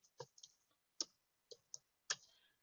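A computer keyboard is tapped to type a command at a command prompt, giving about eight sparse, faint, close clicks at an uneven pace with silence between them.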